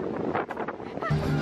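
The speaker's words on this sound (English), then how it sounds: "way too windy" Gusty wind buffets the microphone with a rough, rumbling roar outside at the Orbit slide in London, with faint voices in the background.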